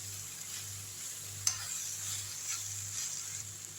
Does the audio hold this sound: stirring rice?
yes